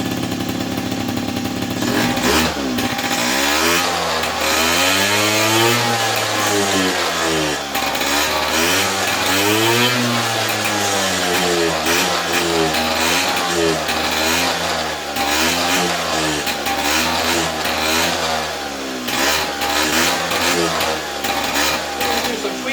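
2004 Polaris Predator 50cc ATV engine running on a newly fitted carburetor after years unused, loud and close, with a small engine revving up and down in repeated surges over a rough idle.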